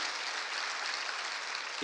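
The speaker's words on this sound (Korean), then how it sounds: "하나님께 영광의 박수를 돌리겠습니다." A church congregation claps steadily in praise to God after a chanted faith slogan, a dense, even wash of applause that sounds soft and somewhat distant, holding level throughout.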